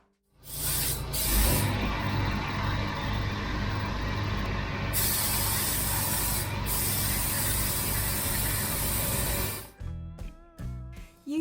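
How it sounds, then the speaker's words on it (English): Spray gun applying primer inside a booth during a vintage Bedford truck restoration, a loud continuous hiss of atomized spray that runs nearly ten seconds, with brief pauses, then stops into small clattering handling noises. "Using a spray gun,"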